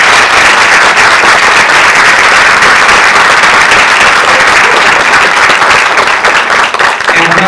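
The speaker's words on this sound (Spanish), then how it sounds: "voy a pedir otro aplauso para ella" Sustained, loud applause from an audience at a post-performance talk about the Selk'nam people, held at a memory museum, continuing steadily for several seconds in honour of a woman named Pamela.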